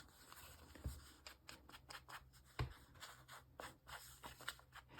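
Paper bookplate edges are distressed with quick scratchy snips and scrapes in short irregular bursts, with two sharper clicks, very close and faint with no talk.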